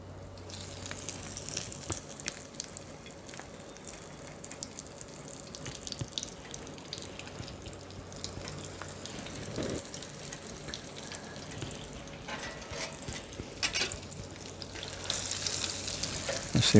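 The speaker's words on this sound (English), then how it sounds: "now I'm going to put them in my oil. Be really careful because that oil is hot." Salmon patties fry in hot oil with a steady, even sizzle and crackle that runs the whole time, at a moderate level with no voices.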